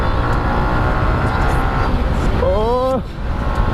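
A Yamaha R15 v3 motorcycle with a modified stock exhaust rumbles steadily and loudly throughout, with a brief rising-and-falling tonal rev near the end, while someone talks over it.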